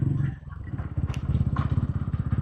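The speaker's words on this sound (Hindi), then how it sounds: "खड़े हो के बाइक चलानी पड़ रही है यहाँ तो, बहुत गड्ढे हैं" A motorcycle rides over a potholed mountain road near a small hill village, its engine throbbing in a steady rapid pulse, loud and close, with occasional clatter and bumps.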